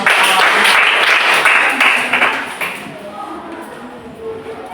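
Classroom applause for a student group, a broad dense wash of clapping for about two and a half seconds that then fades and thins out into scattered claps and quiet room noise.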